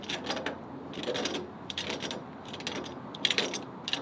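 Ratcheting clicks from an RCV axle part being pressed in during an axle rebuild, coming in several short bursts of rapid, close, fairly quiet clicking with brief pauses between them.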